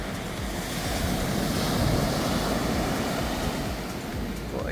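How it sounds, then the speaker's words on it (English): Ocean surf rolls onto a beach in Morocco near a campsite, a continuous loud wash of breaking waves mixed with wind buffeting the microphone. "So this is the beach just down from the campsite."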